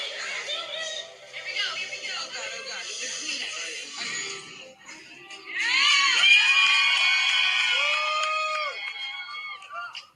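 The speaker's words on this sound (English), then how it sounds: "You guys hear the people screaming?" A large crowd of people screaming and cheering over the Game of Thrones theme, sustained and loud, with a swell of voices rising sharply midway and fading toward the end.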